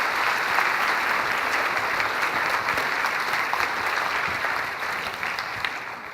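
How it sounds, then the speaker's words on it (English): Steady, dense audience applause after a presentation on maternal and children's health research, loud and continuous throughout, thinning slightly toward the end with no talk over it. "Okay, round of applause."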